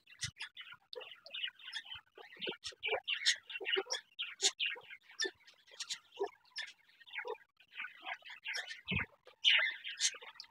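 Parakeets and other aviary birds chirp and twitter busily at once, a dense overlapping chatter of tweets and trills, fairly close.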